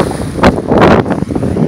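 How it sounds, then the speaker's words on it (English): Strong wind buffets the microphone on Lake Eufaula, a choppy lake whipped into whitecaps, making loud, gusty rumbling bursts up close. "This is Lake Eufaula on a windy day."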